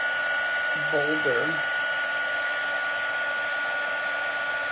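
A heat gun used for heat embossing blows with a steady, even whirring hum throughout, while someone briefly speaks over it near the start.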